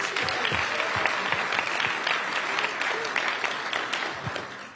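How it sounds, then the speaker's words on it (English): Applause at a police community relations awards ceremony: a dense, steady round of clapping from a crowd that fills the whole stretch and eases only slightly toward the end. "let's give her a round of applause."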